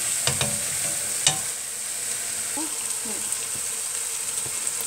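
A tajine sauce with prunes and apricots simmers and fries in a pan with a steady bubbling sizzle, a few sharp utensil knocks near the start and faint scraping stirs later.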